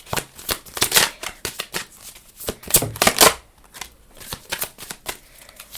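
Deck of cards being shuffled, a series of sharp riffling bursts in irregular rhythm, loud and close, with a brief voice heard faintly.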